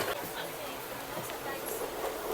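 A passenger train sits at a station, heard as a faint, steady rumble and hiss of rail noise with a few clanks. Voices murmur over the train throughout.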